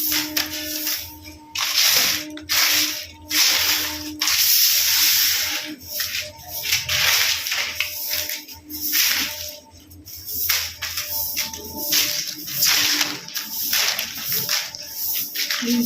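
Water gushes into a container for bathing in rhythmic, hissing surges that rise and break off every second or so, loud and close.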